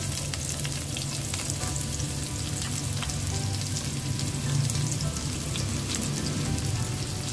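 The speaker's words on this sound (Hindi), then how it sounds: "अब ये जो हमारे पास ऑयल है हम इसमें डालते हैं थोड़ी सी प्याज" Thinly sliced onion frying in hot oil for chicken gola kabab, a dense, steady sizzle with crackling pops, close and continuous with no talk.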